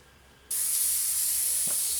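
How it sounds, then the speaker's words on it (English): An airbrush starts spraying thinned paint onto a 1/32 Eduard Messerschmitt Bf109E-3 scale model, an abrupt, steady close hiss that begins half a second in and holds, with a faint small knock near the end. "Spraying"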